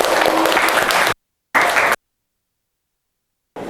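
Group applause in a training workshop session, a burst of clapping that cuts off twice, with short silent gaps between the sections.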